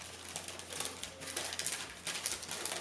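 Scissors snipping the corners of parchment paper while lining a baking pan, soft crinkly cuts and rustling at close range, faint overall.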